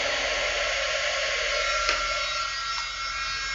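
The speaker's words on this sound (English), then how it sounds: "we're going to basically melt the embossing powder onto the card" A heat tool blowing hot air to melt embossing powder on a stamped card, a loud steady whirring fan hiss, close and unbroken.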